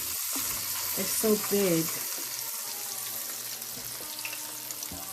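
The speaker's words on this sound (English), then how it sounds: "Now I'm getting ready to fry them." Turkey wings brined in dill pickle juice and coated in ranch seasoning fry in hot oil with a steady crackling sizzle, while a voice speaks briefly over it near the start.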